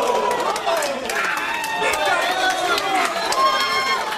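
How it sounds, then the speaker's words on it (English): A wrestling crowd at a live C4 show roars and chatters steadily, a dense, loud wash of voices under commentary with sharp impacts poking through. "this crowd's so freaking hot"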